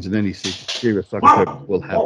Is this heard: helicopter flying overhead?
no